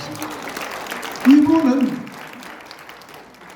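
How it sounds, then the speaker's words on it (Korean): Crowd applause at a church rally at Sarang Jeil Church, a broad rustling wash that swells briefly and then fades beneath someone speaking loudly over a microphone. "박수 크게 한번 보내주세요"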